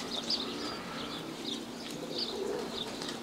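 A racing pigeon coos softly a few times near a loft. The coos sit over a steady background hum, and there are faint chirps as well.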